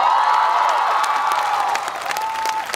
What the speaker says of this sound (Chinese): 我们先跟着他们拍手